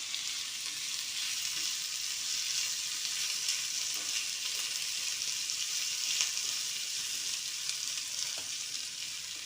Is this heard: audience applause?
no